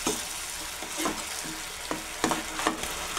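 Tomato paste fries in a pan for a Nepali-style paneer curry, a steady soft sizzle broken by a few sharp scraping stirs, with no one speaking.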